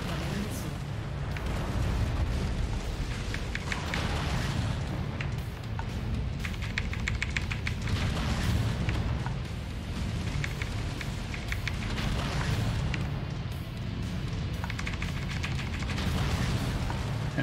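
Missile barrages and explosions from MechWarrior 5 combat against a mech: a continuous rumble of booms and rocket fire, loud and dense, with someone talking over it.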